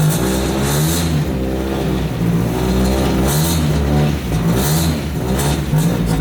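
A project car being readied for a SEMA show idles roughly, its engine note wavering and surging unevenly at close range, loud and steady with no talk.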